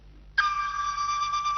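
A telephone ringtone starts abruptly and rings steadily, a clear electronic tone sustained at moderate loudness over a faint background hum.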